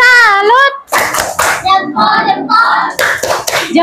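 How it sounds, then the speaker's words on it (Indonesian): Children in a classroom do a rhythmic tepuk salut clap chant for a student group, with chanted and sung voices mixed with patterned bursts of clapping, close and loud. "Kita kasih tepuk salut lagi."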